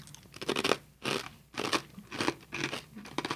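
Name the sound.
crunching garlic chive crouton snack from Finland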